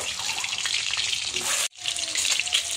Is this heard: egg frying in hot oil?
yes